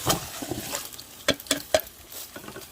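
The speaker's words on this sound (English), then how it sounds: "now you're going to throw the potatoes in there." Chunks of potato drop into a hot pot with a few sharp knocks and a soft sizzling clatter while making Zuppa Toscana soup, no voices.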